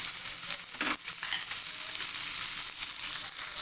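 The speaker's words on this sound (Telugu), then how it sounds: "లావు లావుగా కట్ చేసి పెట్టుకున్న ఉల్లిగడ్డ ముక్కలు వేసుకోవాలి కొంచెం మనకు ఉల్లిగడ్డ వేగడానికి అన్నట్టు కొంచెం ఆయిల్ అయితే వేసుకోవాలి" Thick-cut onion pieces fry in a little oil for a mint-flavoured chicken curry, giving a steady close sizzle with stirring scrapes throughout and no talk.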